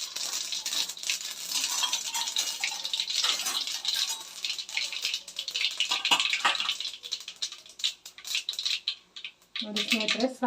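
Mustard seeds drop into hot oil for tomato rice, crackling and popping in a bright, busy sizzle that runs close and steady, with scattered clinks of a pan near the end and a voice talking over it.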